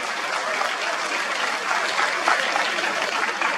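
An audience applauds at Comic Con Paris after a panel with comics artist Jim Lee. The clapping is dense and steady, like hiss, and fills the room from start to end with no pauses.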